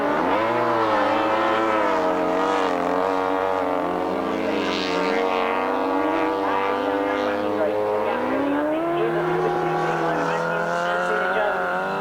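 Grasstrack racing motorcycles come round the bend on the last lap, a loud continuous blend of rising and falling engine whines from several bikes. A commentator talks over them.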